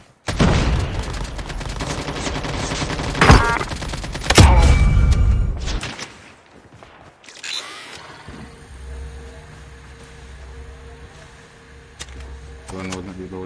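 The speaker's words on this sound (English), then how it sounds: "Someone is shooting from behind me." Rapid automatic gunfire from Call of Duty Mobile crackles loudly through the first half, then fades to quieter game sounds and a low hum, with a player's voice talking over parts of it.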